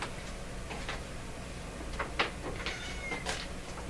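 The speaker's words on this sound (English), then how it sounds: "I'm going to go deal with my cat here because he's not going to stop" A cat meows several times indoors, short soft cries spaced irregularly over quiet room noise, with faint ticking in the background and no one talking.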